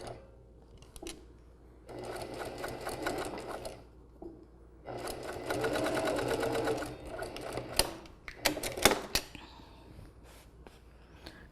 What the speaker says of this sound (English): so now we're just going to stitch this across.